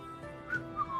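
A person whistles a short tune while grilling over a campfire, two brief bright whistled notes rising above a low ambient background.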